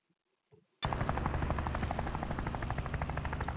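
Aircraft in the video game Combat Master roars in abruptly after a brief quiet moment, then holds a loud, steady whirring drone with a chopping pulse to the end.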